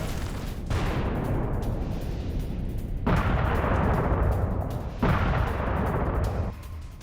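FAB-3000 bomb attack on a multi-storey building in Myrnohrad, Donetsk: loud, heavy booming rumbles come in three sustained surges, each swelling and rolling on for about two seconds with no voices.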